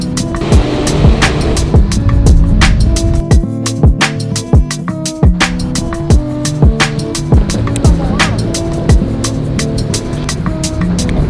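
Electric skateboard ridden outdoors on a fine day, with continuous rolling wheel rumble and motor whine, scattered sharp clicks and bumps from the deck over the surface throughout.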